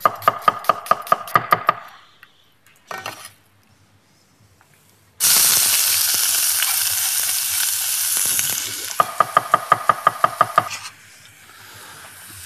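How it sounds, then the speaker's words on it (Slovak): Chopped onion and garlic frying in olive oil in a saucepan: loud steady sizzling hiss that swells in after a burst of rapid knife-chopping taps, with more quick chopping at the start and end. "Rozhorieme si kastrolík, do ktorého pridáme olivový olej a pridáme tam nasekanú cibulu spolu s cesnakom."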